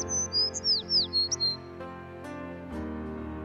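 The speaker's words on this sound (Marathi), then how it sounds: "या पक्ष्यांचा किलबिलाट ऐकताय ना, किती गोड आहे हा आवाज" Birds in forest trees give a quick series of high, sweeping chirps and whistles, clear and near at first, then fade under a soft musical backdrop.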